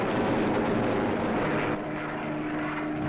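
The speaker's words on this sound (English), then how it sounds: "These thunderbolts are dive bombers." Propeller-driven Thunderbolt fighters of WWII diving as dive bombers, a loud, continuous engine roar that holds steady and eases only slightly toward the end, with no voices.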